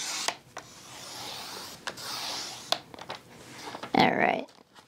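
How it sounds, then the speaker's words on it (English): Scoring tool run across heavy 100 pound Hammermill cardstock, producing soft rasping scrapes in a few strokes, ending with a louder rubbing scrape. "That's the scoring tool."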